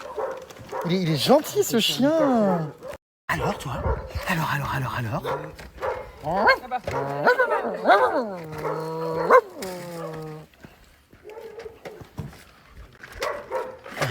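A gentle, friendly three-legged dog gives short vocal sounds close by, mixed in with a person talking to it in French, with brief pauses between bursts.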